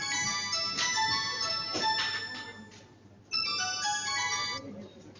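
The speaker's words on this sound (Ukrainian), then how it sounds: "Я не знаю, хто до нас дзвонить. Хтось дзвонить." A phone ringtone plays a repeating electronic melody, pausing briefly and then resuming, while people talk over it.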